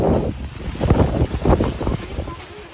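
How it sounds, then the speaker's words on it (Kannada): Strong gusting wind near Nipli Falls buffets the microphone in rough, uneven surges that rumble close and loud, and a voice is faintly audible under the roar. "ಎಂತ ಗಾಳಿ ಗುರು"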